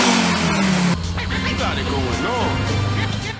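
Audi S1 Sport Quattro Evolution 2 Group B rally car engine, loud and close, droning and revving steadily throughout with a sharp shift in tone about a second in, while people talk over it.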